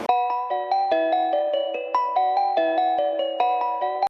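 A bright notification bell chime rings out in a quick repeating run of tonal dings, clean and close with no talk over it.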